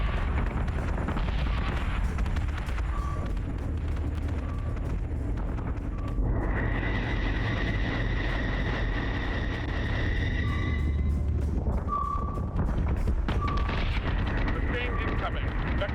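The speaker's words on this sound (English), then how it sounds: "Taking fire." Incoming weapons fire and explosions in the Battlestar Galactica: Deadlock space combat game: a continuous loud rumble of booms and blasts, with tonal beeps and alarm-like whines layered over the barrage throughout.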